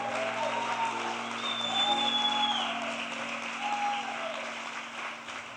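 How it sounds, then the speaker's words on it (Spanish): A congregation at a Christian conference claps together while a sustained electronic tone hums beneath. The clapping stays soft and fairly distant and carries on evenly before thinning slightly near the end. "déle ese aplauso fuerte al Señor"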